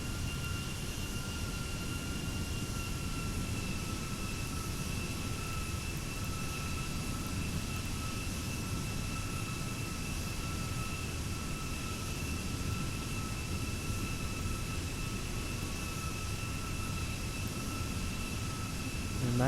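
Steady, loud jet engine roar from a Ryanair Boeing 737 on landing approach in the X-Plane 11 flight simulator, with a constant whine holding over a broad rumble and no talking.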